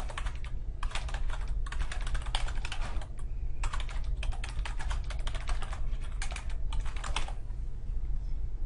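Steady bursts of typing on a computer keyboard as a feedback comment is entered, close and clear, in several runs separated by short pauses, with no voices.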